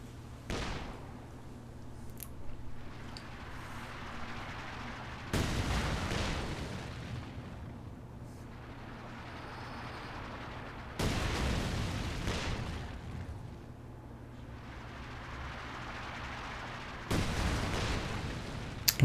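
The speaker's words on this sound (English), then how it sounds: "lobbing some incendiary barrage rounds into it" An incendiary artillery barrage in Company of Heroes 2 lands as a series of muffled, heavy shell impacts, about one every six seconds, each a sharp blast fading into rumbling debris.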